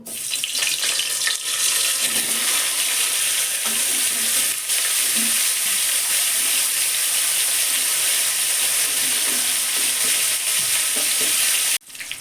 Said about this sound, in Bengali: এবার আমি ফুলকপিটা ভেজে নেব নেব কাশ্মীরি লঙ্কার গুঁড়ো দিয়েছি দিয়ে ভেজে নেব